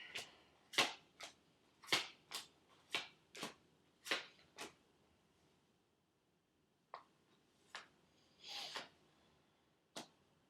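Tarot cards being shuffled by hand in a quiet room, a series of crisp riffling bursts in a steady rhythm for several seconds, a pause, then a few more scattered shuffles, close and fairly soft.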